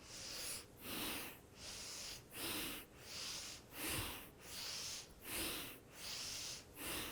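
Steady, rhythmic breathing in and out through the nose during yoga twists in a vinyasa and kundalini flow, about nine even, breathy cycles, close and soft, with no talking.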